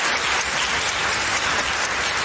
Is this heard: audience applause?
yes